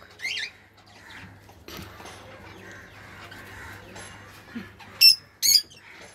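Caged lovebirds give two short, sharp squawks close together near the end, with faint rustling and soft chirps before them and no talking.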